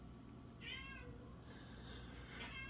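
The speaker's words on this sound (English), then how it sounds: "Sorry if you hear the cat." A pet cat meows nearby, two short rising calls about two seconds apart, over a low steady room hum.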